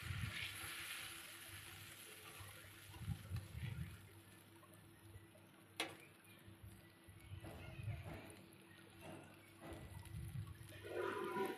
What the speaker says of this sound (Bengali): আমি এবার অল্প জল দিয়ে দিলাম।